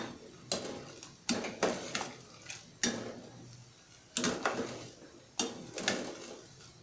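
A spoon scrapes and knocks against a pot while coconut milk is stirred into a green bean and tofu curry, giving a series of sharp clinks and scraping strokes at irregular intervals, close and fairly clear.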